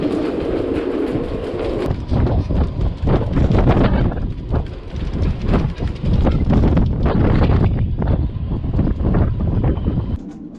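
Strong gusting wind buffeting a moored yacht in rough weather, loud and continuous with heavy rumbling gusts and rattling across the whole stretch.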